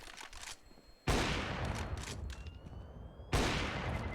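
Counter-Strike gunfire wall-bangs through the floor on the Train map during a match, two loud sharp bursts of shots with rattling decay between them.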